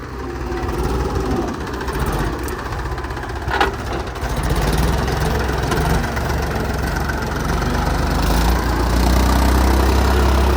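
Two Mahindra tractors, among them an Arjun Novo 4x4 pulling a cultivator, run steadily in a farm field, a continuous loud engine drone without talk throughout.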